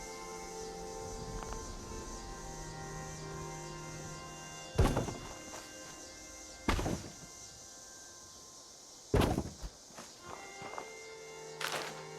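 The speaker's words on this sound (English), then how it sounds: "I can hear my own footsteps from behind me" A player character's own footsteps in the video game Fallout 76: a handful of heavy, irregularly spaced thuds land over a quiet, steady game ambience, with no talking.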